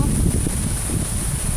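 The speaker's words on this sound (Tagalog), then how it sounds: "mahangin pa rin." Strong wind buffets a microphone at a beach resort on Bohol during stormy weather, a loud, steady rushing roar with no clear pauses.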